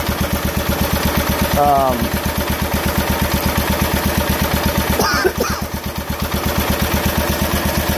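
A Cub Cadet 1282 garden tractor engine, recently repaired at the compression release tab, runs loud and close with a steady, fast thumping idle, and a voice briefly speaks over it.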